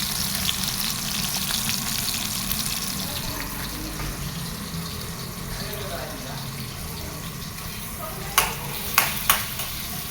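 Onion frying in a pan gives a steady, close sizzle with faint stirring, and a few sharp clinks near the end.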